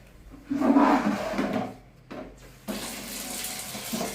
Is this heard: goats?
no